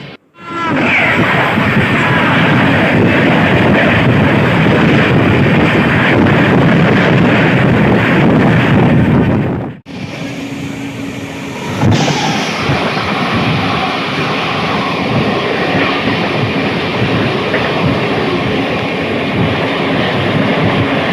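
Express train 14055 from Mau Junction to Anand Vihar runs at just under 100 km/h, a loud, steady roar of wheels and wind that drops abruptly near the midpoint into a lower rattling rumble.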